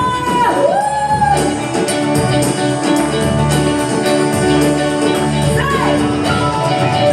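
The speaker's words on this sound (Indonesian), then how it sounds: "Sorakan haleluya" A church congregation shouts hallelujah during a Sunday worship service, loud voices whooping and calling over continuous band music and singing, the whole crowd sustained throughout.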